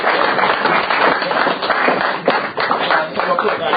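A round of applause from an audience at a speech event after a £40 auction bid, dense rapid clapping filling the stretch with a muffled, band-limited quality and voices mixed in.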